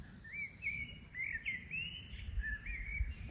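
Birds singing in a quiet hidden gorge in France, a few clear chirping and whistling phrases repeating at a moderate distance over a soft low background rumble, with no voices.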